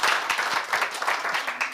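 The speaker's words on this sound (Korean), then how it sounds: "박수 한번 쳐드려 박수 한번." Brief burst of applause from a small office group at a work meeting, dense overlapping claps at close range lasting under two seconds, with no one speaking over it.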